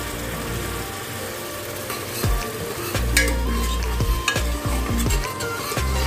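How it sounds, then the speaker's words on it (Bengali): Spice-rinse water poured into a sizzling Bengali mutton curry cooked without onion or garlic, with a steady loud frying hiss and repeated scraping stirs of a spoon against the pot. "আর দিচ্ছি সামান্য একটু মশলা ধোয়ার জল।"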